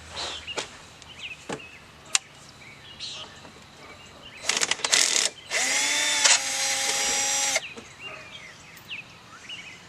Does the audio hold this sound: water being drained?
no